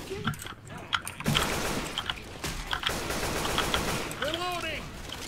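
Gunfire rattles in Left 4 Dead 2 during the Port finale as rapid bursts of shots mix with chaotic game noise. A player voice and other in-game sounds come in near the end, all at moderate volume.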